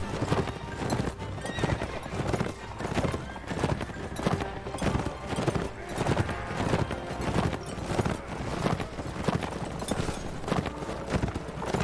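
Rapid hoofbeats pound in a steady galloping rhythm in the video game Mount & Blade: Warband, with a horse whinnying over the clatter and a brief voice in the mix.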